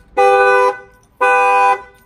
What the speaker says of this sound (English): the shock sensor loves any type of impact. So that will set off the alarm right off the back